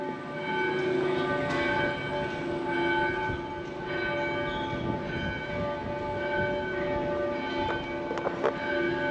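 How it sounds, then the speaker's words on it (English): Church bells in Barcelona ring out at noon with sustained, overlapping tones from a distance, steady and resonant over a low ambient rumble. "That even comes with bells at noon."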